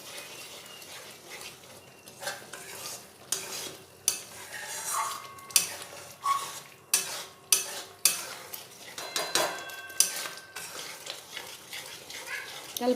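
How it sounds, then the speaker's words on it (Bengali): Spice paste is stir-fried with whipped yogurt for doi katla, with a spatula scraping the pan in repeated firm strokes over a soft, steady sizzle. "দইটা দিয়েও মশলাটা আর একটু কষিয়ে নেব।"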